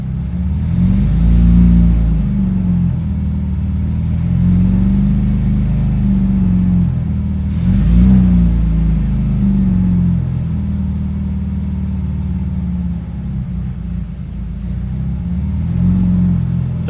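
A BMW E30 M3 engine running on an Alpha-N engine computer, a steady low rumble with slight rises in pitch and level, loud and close throughout, no talking.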